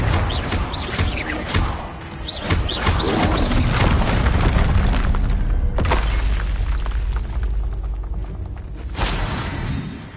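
Confringo explosion spells in Hogwarts Legacy on PS5: loud, dense booming blasts and crashes follow one another almost without pause for about ten seconds, with sharp impacts standing out over the rumbling.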